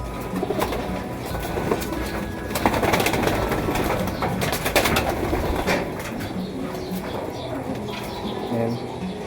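Pigeons coo in low, throaty calls amid outdoor background noise and scattered clatter, the birds nearby.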